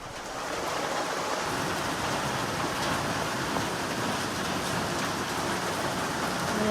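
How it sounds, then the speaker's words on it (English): Steady rain from a sudden rainstorm pouring down on the Neusiok Trail, part of the Mountains to Sea Trail, a dense, even hiss of drops that stays loud and unbroken throughout. "I had a little rainstorm pop up."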